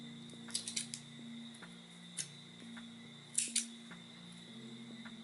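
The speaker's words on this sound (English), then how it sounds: "I can just snip it like this. The scissors." Several small, crisp scissor snips cutting frayed thread, scattered over a quiet steady hum, a close pair of sharper cuts near the end.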